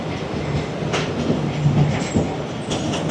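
A train pulls into Chhor railway station in the Thar Desert, giving a steady rumble of rolling wagons with a faint wheel squeal and clatter throughout, fairly close, with no voices.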